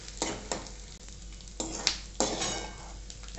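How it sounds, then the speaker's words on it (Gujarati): Edible gum (gond) fries in hot ghee over a high flame, giving a steady sizzle as a utensil stirs and scrapes the pan in several distinct strokes with light clinks, close by and without talk. "ગેસની ફ્લેમ થોડી ફાસ્ટ કરી દેવાની જેથી ગુંદર આપણો સરસ રીતે તળાઈ જવો જોઈએ।"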